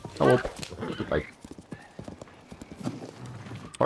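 A horse in The Legend of Zelda: Tears of the Kingdom gallops with quick, steady hoofbeats, and a voice speaks over the hooves near the start.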